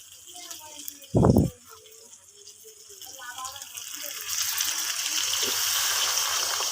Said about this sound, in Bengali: কষানোটা হয়ে গেছে, এবার আমি জল নেব।